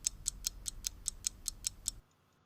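A clock ticks about ten times in an even, quick rhythm, crisp and close, then stops abruptly, leaving near silence.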